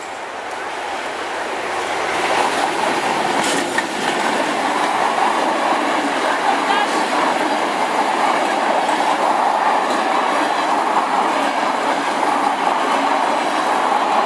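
A passenger train from Katowice rolls past near the Baltic coast, a steady loud rumble of wheels and carriages with faint clickety-clack building up after the first couple of seconds and holding to the end.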